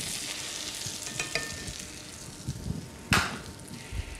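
A sole fillet fries in foaming butter in a pan, a soft continuous sizzle and bubbling with a few scrapes and a sharper clink of a utensil partway through, no voices.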